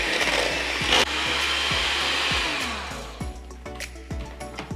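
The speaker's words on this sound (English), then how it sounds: "break it into nice little chunks and combine it with the sauce" Electric mixer whirring continuously as it breaks cooked squash into chunks in a sauce, a loud steady motor drone with rhythmic low thumps from the beaters, easing off and turning choppier near the end.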